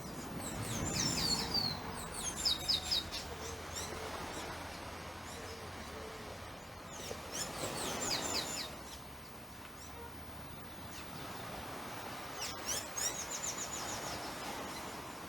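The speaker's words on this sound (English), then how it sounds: "So enjoy our blackbird quartet." Several blackbirds sing outdoors at daybreak, fluting phrases and chirps coming and going over a quiet background hum, fairly distant and soft.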